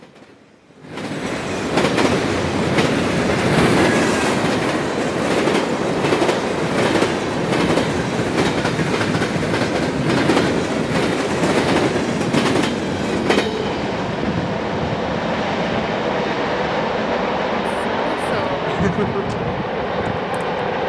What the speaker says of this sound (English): Forgot how loud the trap joints are here.